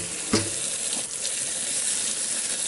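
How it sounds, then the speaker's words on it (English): Hot water gushes and splashes into a tub of soapy LEGO bricks, a steady hissing pour with a couple of sharper splashes near the start. "And then we put the hot water"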